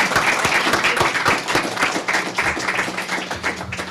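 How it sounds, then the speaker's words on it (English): An audience at a citizen reporting academy graduation ceremony gives a short burst of applause. The clapping is dense and close at first, then thins out and tapers off over a few seconds. "Let's give her a round of applause as well."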